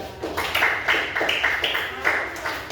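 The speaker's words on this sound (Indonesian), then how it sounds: "Oke, tepuk tangan buat kelompok 3." A classroom group applauds together, rapid uneven handclaps forming a steady, moderately loud patter with voices mixed in the background.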